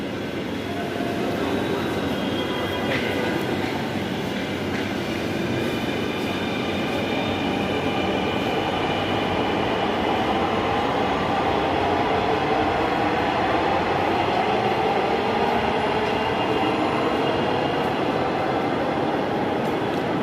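Steady loud rumble of a Dhaka metro train running, continuous broadband roar with faint high squeals and clatter throughout.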